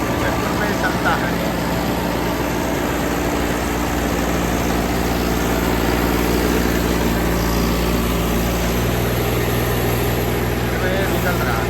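A tractor-driven machine engine runs steadily at close range, a continuous low rumbling drone holding throughout with no breaks.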